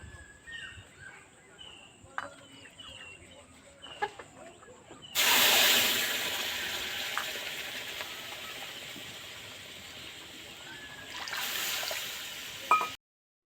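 Milk is poured into fried semolina in a hot pan: after a quiet stretch with faint background noises, a sudden loud, close hissing sizzle bursts out and holds for several seconds, swelling again briefly before it cuts off.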